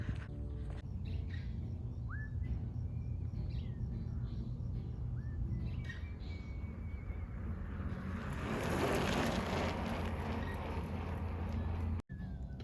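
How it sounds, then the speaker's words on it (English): Seagull calls ring out faintly a few times by Lake Hollywood over a steady low engine rumble and washing water, growing into a louder rush of surf. "As I'm looking at the trees, I can hear the seagulls."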